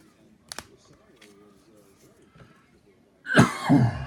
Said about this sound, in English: I'm still coughing here.